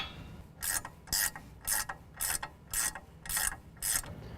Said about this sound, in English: Now that that's in, we can go ahead and tighten down the upper and lower ball joints.